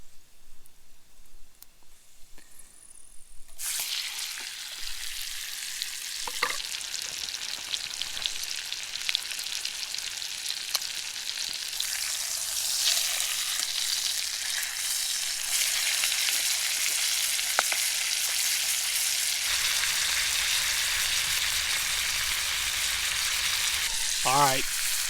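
A thin trout fillet seasoned with salt sizzles in a pan at a fishing camp: a quiet start, then a loud, even, hissing fry that continues close by with a few faint utensil taps.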